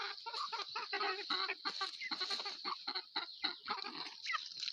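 Muscovy ducks give a run of repeated breathy, clucking calls, fairly loud and close, with no talking over them.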